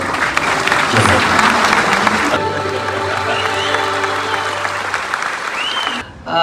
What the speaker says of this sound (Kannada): ಅವರು ಜೋರಾದ ಚಪ್ಪಾಳೆ.